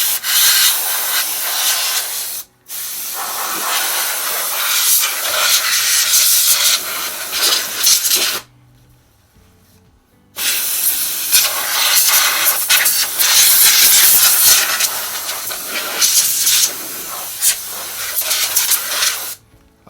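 Compressed air blasts dust out of a Dell Optiplex desktop computer: loud, close, sharp hissing bursts, with a brief break near the start and a longer silent pause midway before the spraying resumes.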